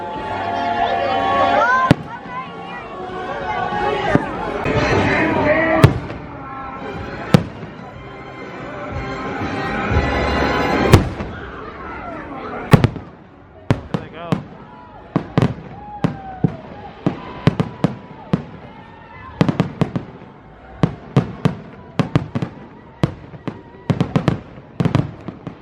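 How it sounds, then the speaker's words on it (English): Fireworks crackle and boom in a long series of sharp bursts, dense at first then spaced out, with music and voices underneath early on, at Dollywood's Smoky Mountain Christmas amid falling snow. "There's the fireworks."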